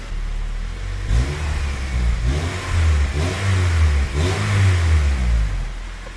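A Honda Civic Type R fitted with a new exhaust revs repeatedly, with three or four deep rising and falling blips over a steady idle, loud and close with no talking.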